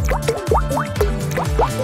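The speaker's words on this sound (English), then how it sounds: "drip the mix onto a pumice stone, drop by drop." Colored silicone mix drips drop by drop onto a pumice stone, making a close, clear series of wet plops and bloops with a bouncy, springy pitch, in an uneven rhythm.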